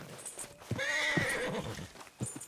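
A horse gives a single shrill, quavering neigh, close by, with a few soft thuds and rustles around it.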